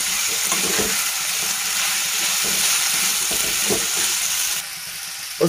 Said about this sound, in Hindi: अब इसमें हम जिंजर गार्लिक का पेस्ट डालेंगे 1 टेबल स्पून। फिर उसके बाद इसमें अच्छे से मिक्स करेंगे।